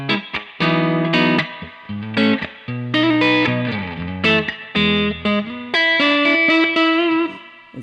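An electric guitar plays short chords and notes through an Eventide Space pedal on a spring reverb setting, each phrase ringing with a reverberant tail, close and clear.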